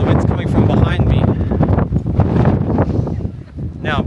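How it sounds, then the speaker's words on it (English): Strong desert wind gusts at Petra buffet the microphone with a loud, continuous roar that swells and dips, and a person talks over it throughout. "big gusts of winds behind me"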